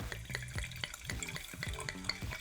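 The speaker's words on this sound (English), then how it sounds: "Okay, I'll pour a glass. Or two." Rosé wine is poured into a glass, a soft, steady liquid trickle with gurgling pulses that lasts a couple of seconds, quiet and close.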